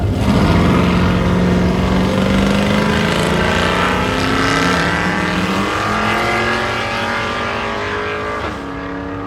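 Wood-grain wagon at a hot rod event, its engine giving a loud, low rumbling drone that rises and falls as it moves nearby, mixed with other road noise.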